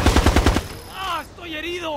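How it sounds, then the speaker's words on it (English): Rapid automatic gunfire from the military shooter Ghost Recon Advanced Warfighter 2, a dense burst of loud repeated shots for about half a second, then radio-style voices talking with no shooting. "Open fire! Fire at will!"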